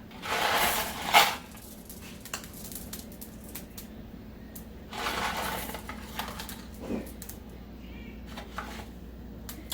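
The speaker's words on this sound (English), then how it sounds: "I'm just going to take the Reese's Pieces and put over the top" Reese's Pieces candies scattered by hand over brownie batter, a quick burst of light pattering clicks near the start, a shorter second scatter around the middle, then soft faint handling noises.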